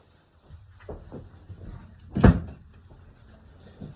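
Kitchen doors being shut during cooking prep, a few soft knocks followed by one loud close thump near the microphone, then quiet room tone.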